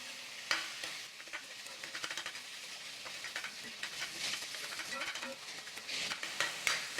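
Ground chicken mixture stirred in a pan for stuffed poblano peppers, with continuous close sizzling and scraping utensil strokes throughout.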